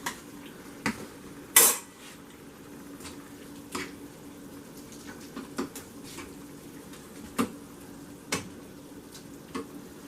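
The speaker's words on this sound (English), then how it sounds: "Mix it all up well." A spoon stirs stuffed bell pepper filling in a bowl, with sparse, irregular scrapes and clinks against the bowl over a quiet background and no talking.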